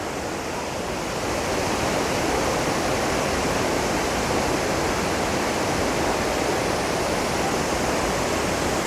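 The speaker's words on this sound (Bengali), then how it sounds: "ওপাশ দিয়ে জলটা পড়ছে দেখুন" Water plunging at Hundru Falls waterfall in Jharkhand, India: a loud, steady, roaring rush of white noise that never lets up, heard alone.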